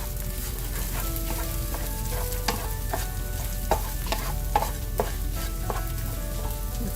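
Okra and soft scrambled eggs stir-fry together in a pan with a constant close sizzle, broken by repeated sharp spatula clicks and scrapes at an uneven rhythm.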